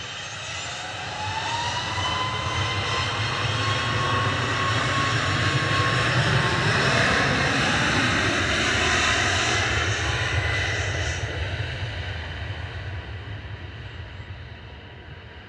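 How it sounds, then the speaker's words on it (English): A Ryanair jet airliner bound for Girona takes off from Manchester Airport, its engine roar building with a rising whine, holding loud and steady, then slowly fading into the distance. "This is Ryanair to Girona."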